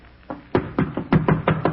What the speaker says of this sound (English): Knock on the door there again.